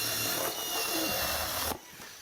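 A HOTO automated power cutting tool pushes itself through material, giving a loud, steady whirring cut that stops abruptly near the end.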